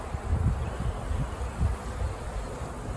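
Honey bees buzzing faintly during installation of a package and nuc into a hive, a soft, uneven swarm hum that swells and fades in low pulses.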